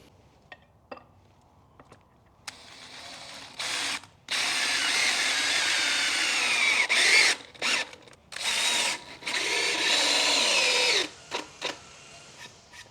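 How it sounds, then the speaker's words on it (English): A power drill drives screws into wooden sides, with several close whirring bursts of differing length separated by short pauses and a few light knocks before and after. "So let me screw these sides up."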